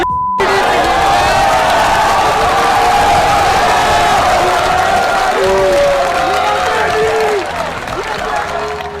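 A large crowd cheers, shouts and applauds for Ben Shapiro as protesters walk out, a dense roar held loud and steady before thinning toward the end.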